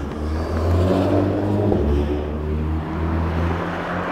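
A Liberty Walk car roars past at full throttle, its loud, sustained engine note rumbling low and steady, swelling and easing slightly without a break.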